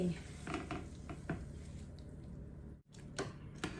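A utensil scoops cooked food from a pot into a bowl, giving several light clinks and scrapes of metal on crockery, quiet and close, with a short silent gap partway through.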